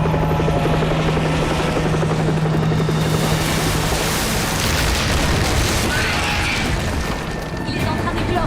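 A helicopter roars loud and close in a French action film scene near a volcano, its rotor thump and engine noise filling the whole stretch continuously without letup.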